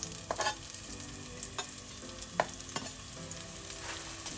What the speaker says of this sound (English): Then I'm gonna add in the spring onion and garlic.